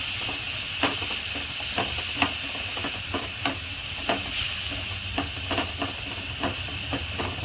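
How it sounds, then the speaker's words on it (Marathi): Fresh coriander sizzles in hot oil in a pan while being stirred, with a steady frying hiss and repeated soft scraping taps of the spoon, close and fairly loud with no talking. "आणि कोथिंबीर चांगली तेलामध्ये मिक्स करून द्यायची।"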